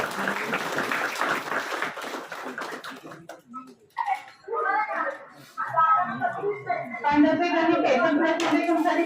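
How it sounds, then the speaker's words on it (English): A conference audience claps for a principal at an international event on sustainable development, with a burst of steady hand clapping in a hall that fades, followed by someone speaking into a microphone. "Give a huge round of applause"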